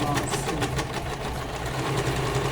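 A sewing machine topstitches a French seam, its needle running in a fast, steady mechanical whir with rapid rhythmic ticking, close and uninterrupted throughout.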